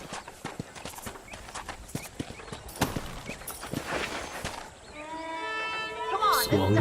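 Hooves clip-clop in a steady walking rhythm in Red Dead Redemption, with distinct close thuds, before a horse's whinny breaks in near the end.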